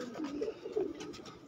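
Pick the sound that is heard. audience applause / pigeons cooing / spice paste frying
pigeons cooing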